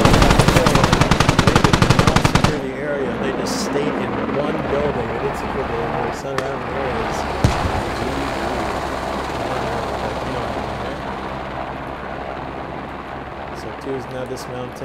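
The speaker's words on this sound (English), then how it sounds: "Okay, they heard the helo, so they must know." A military helicopter in the video game Squad, on the Harju map, drones with a continuous rotor rumble after an opening stretch of rapid machine-gun fire, with a voice talking over the scene.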